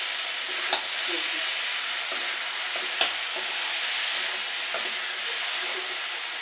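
Kochur loti (taro stolon) fish curry sizzles steadily in a pan as the spices cook down, a continuous close frying hiss broken by a few soft knocks of a spatula against the pan.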